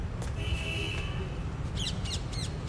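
A bird chirps in short, high repeated calls, three quick chirps toward the end, under a steady low background rumble of city noise.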